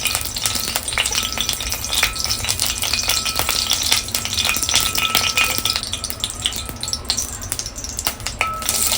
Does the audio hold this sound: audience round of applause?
no